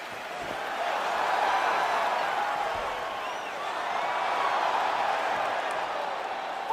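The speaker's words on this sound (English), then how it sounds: "crowd getting excited as this fight gets underway" A crowd in EA Sports UFC 4 roars with a steady, swelling cheer that fills the arena at a moderate level, rising and dipping slightly as it continues without pause.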